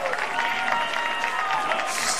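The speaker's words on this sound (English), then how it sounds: "He gets a round of applause from everyone in the stadium." A stadium crowd at a CFC versus Maryland Bobcats soccer match applauds a substituted player, a steady wash of clapping and cheering under a commentator's talk.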